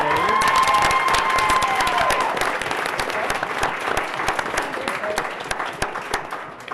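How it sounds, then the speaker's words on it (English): A crowd applauds and cheers loudly for an award recipient called up at a Board of Education school meeting, sustained clapping with whoops that taper slightly toward the end. "Dave has quite a cheering group out there."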